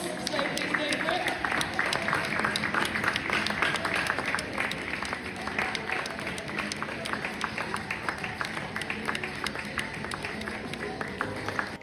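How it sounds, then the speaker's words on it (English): Applause and cheering swell from an audience after an evening display, a dense and steady wash of many hands clapping throughout, with crowd voices mixed in. "these guys can take a round of applause, so please go for it"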